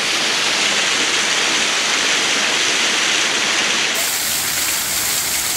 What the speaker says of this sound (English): A lot of details to this waterfall.